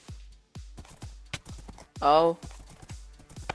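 Rhythmic, close clip-clopping of a horse's hooves walking in the Minecraft video game, a steady series of sharp hollow knocks with a brief spoken exclamation in the middle.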